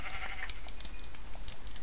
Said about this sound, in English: Oh, I found a sheep.